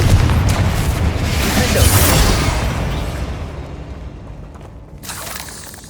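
A Confringo fire spell explodes in Hogwarts Legacy on PS5, a loud booming blast with a rushing burst that decays over several seconds, followed by a smaller late flare of noise.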